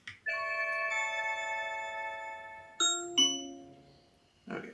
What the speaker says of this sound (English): Someone is at the video doorbell.